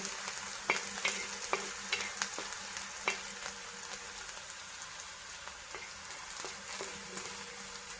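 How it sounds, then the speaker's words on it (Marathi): Onion frying in an iron pan for a spicy pithla, a soft, steady sizzle with repeated sharp scrapes and taps of a spatula stirring, close and without speech. "आता आपला कांदा छान तळला आहे"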